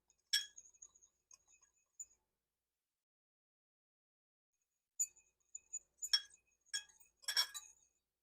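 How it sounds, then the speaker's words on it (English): A spoon stirs salt, paprika and cayenne pepper together in a bowl: sparse, light clinks against the bowl in small clusters with near-silence between them, faint and close. "I'm going to just go ahead and stir those together."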